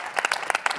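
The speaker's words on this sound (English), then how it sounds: "Can I just to give you a round of applause?" An audience at a women's sports panel gives a round of applause, a sparse burst of distinct claps heard close and fairly loud over a very short moment.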